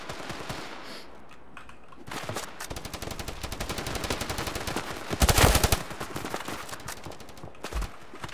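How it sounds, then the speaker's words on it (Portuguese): Rapid automatic gunfire from an opponent in the mobile shooter Standoff 2, long dense bursts of shots with a louder, closer volley midway, continuing steadily without talk. "Caraca, o cara fuzilando eu"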